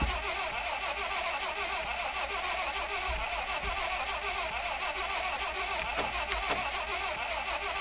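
An off-road video game car engine cranks and starts, settling into a steady mechanical drone with a few brief clicks near the end; no talking.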